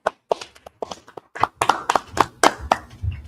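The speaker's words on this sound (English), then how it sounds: "Let's clap it up." A small audience claps in sharp, uneven hand claps that start sparse and build into a quicker, louder burst of applause.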